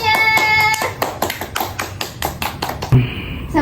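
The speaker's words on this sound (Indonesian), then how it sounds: "Beri tepuk tangannya" Elementary schoolchildren in a math class clap their hands in applause, a short run of distinct, fairly close claps that thins out and stops after about three seconds, with faint classroom voices at the edges.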